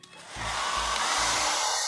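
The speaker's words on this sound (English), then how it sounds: "Hair dryer here." A hair dryer switches on with a click and runs with a steady loud whoosh and motor hum, close up, continuing without pause.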